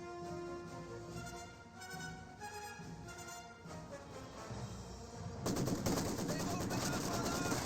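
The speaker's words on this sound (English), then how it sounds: "Maxim fire away. Getting some bursts off onto the Fallschirmjägers." In Company of Heroes 2, a Maxim machine gun fires repeated rapid bursts amid game battle noise, then a denser, louder stretch of gunfire at the end, with a commentator's voice faintly underneath.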